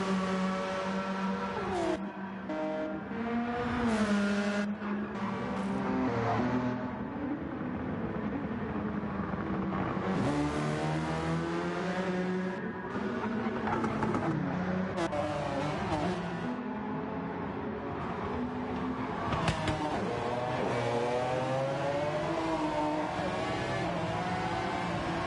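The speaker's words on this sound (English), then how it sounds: "Sutters puts his foot down, gets on this straight, and that Supra disappears off into the distance" A Toyota Supra race car at Bathurst in a racing video game accelerates with a continuous engine howl that rises and falls in pitch through the gears, steady and loud for the whole stretch.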